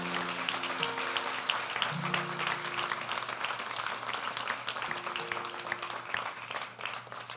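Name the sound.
church congregation applauding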